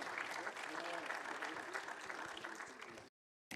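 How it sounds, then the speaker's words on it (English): Applause ripples through an audience at a transit board meeting, broad and steady with faint voices mixed in, before cutting abruptly to silence and then briefly resuming. "Please give a round of applause to all those who are not in attendance today."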